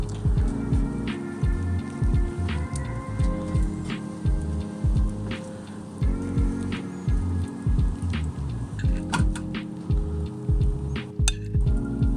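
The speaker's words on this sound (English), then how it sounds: "it has been raining here" Steady rain patters and drips on surfaces, with scattered clinks and taps repeating throughout at a moderate, even level.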